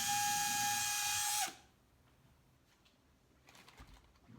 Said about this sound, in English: got the drill not straight up and down, and trying to match the angle of that slope so the screw's going straight